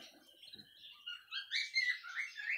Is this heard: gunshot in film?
no